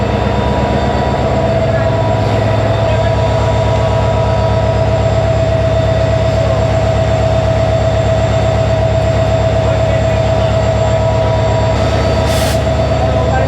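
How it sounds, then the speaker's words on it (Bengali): The meter-gauge Mohanagar Godhuli Express, hauled by engine 3008 between Chittagong and Dhaka, rumbles loudly and continuously with a steady engine drone and rhythmic wheel clatter, and a short sharp burst comes near the end. "তিন হাজার আট নম্বর সিরিয়ালের ইঞ্জিনটি আজকে এই ট্রেনটি টেনে নিয়ে যাবে চট্টগ্রাম থেকে ঢাকাতে"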